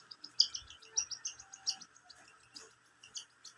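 A pet bird chirps close by in a quick series of short, high tweets with small gaps between them over a faint background hum, and no voices.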